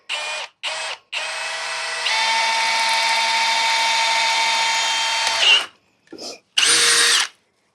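A cordless power drill boring holes through the metal frame of a boat trailer under restoration, with several short bursts and then one long steady whine at constant speed before trailing off into brief stop-start pulses.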